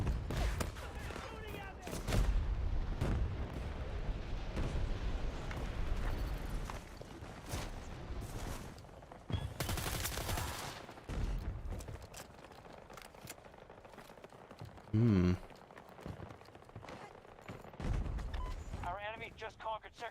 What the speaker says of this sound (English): Oh, we got tanks shooting at us.